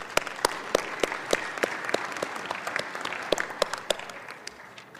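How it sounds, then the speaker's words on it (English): Applause from an audience at a wine symposium, a moderate crowd clapping with distinct individual claps standing out, tapering off toward the end. "Let's give them a round of applause right quick."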